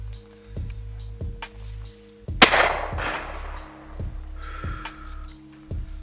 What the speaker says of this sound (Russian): Берданчика. Салютика бахнем.